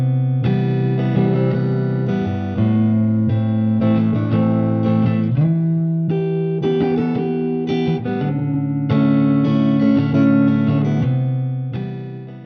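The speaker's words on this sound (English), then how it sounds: "This guitar part is lathered with effects to create the distant, otherworldly sound" Electric guitar strumming a slow chord progression, washed in reverb and chorus-like effects, sustained and full throughout with a distant, hazy shimmer.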